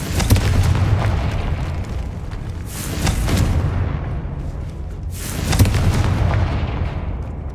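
Booming magical blasts from the Confringo spell in the Hogwarts Legacy video game, two heavy explosive bursts a few seconds apart over a continuous rumbling battle backdrop.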